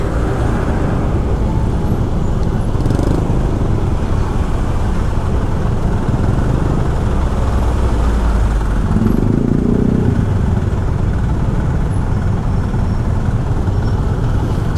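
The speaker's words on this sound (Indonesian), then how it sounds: "Sudah pasti jalurnya di sini macet." Congested traffic crawls along Jalan Raya Canggu in Bali, motorcycles and cars droning in a loud, continuous roadside rumble with engine swells passing close by and no one speaking.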